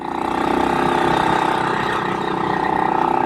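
A BSA Victor Special 441 classic long-stroke single-cylinder motorcycle engine running steadily, close and loud, with a fast even thumping pulse throughout.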